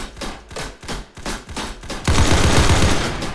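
Rifle gunfire in a sci-fi shooter video game: several separate sharp shots, then a dense continuous volley of rapid fire, loud and close.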